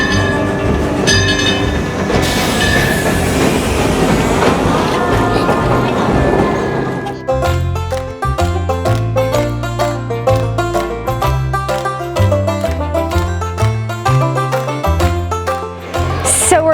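A train at Silver Dollar City theme park rolls past loudly, first a roaring rush and hiss, then a steady rhythmic clickety-clack of wheels over rail joints.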